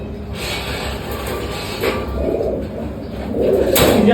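Racing pigeons coo steadily in a breeding loft, a soft continuous murmur of several birds with a low rumbling background.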